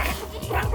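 Small dog giving a quick yippy bark during a zoo visit, short and close, with people talking around it.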